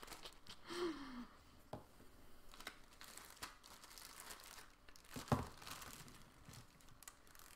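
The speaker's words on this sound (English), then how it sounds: "I'll put this back in its plastic bag." Crinkling of a plastic bag as an item is slipped back into it at a dollhouse-plant crafting table, with soft scattered rustles and a sharper crackle partway through, quiet and close, with no talk.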